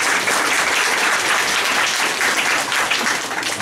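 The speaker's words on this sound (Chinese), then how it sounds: "大家掌声一下好不好？" An audience at a talk on the future of the left breaks into steady, dense applause, loud and sustained throughout with no pauses and no voices on top.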